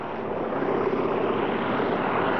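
A restored former Russian Polikarpov fighter aircraft runs its radial piston engine with a loud, steady, droning roar and propeller hum, close by and unbroken.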